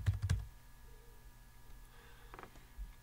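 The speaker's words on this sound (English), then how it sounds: "I can actually type in a keyword that I'm looking for." Computer keyboard keys tapped in a short burst of close, quick clicks at the start, then a few scattered lighter taps over quiet room tone.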